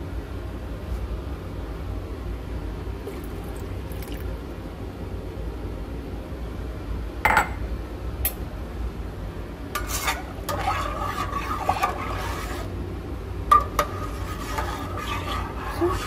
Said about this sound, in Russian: Хорошенечко размешали.